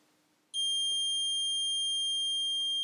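A continuity tester sounds while testing insulated stripping pliers: after a moment of quiet room tone, it emits a sudden, steady, loud high-pitched electronic beep that holds unbroken to the end, with no talking.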